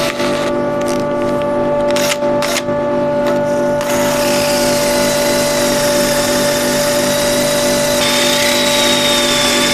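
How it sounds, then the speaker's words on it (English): A drill fitted with a sanding attachment works a live edge oak bowl, giving a steady close motor whine with a constant tone, a few sharp clicks early on, then a smoother shifting hiss of abrasion. "You can use attachment for the drill."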